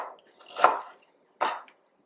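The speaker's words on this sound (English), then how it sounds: "I'm going to start off by chopping my ginger" Fresh ginger chopped with a knife on a cutting board for a turkey marinade: two or three crisp, close-up blade strikes separated by short silent pauses.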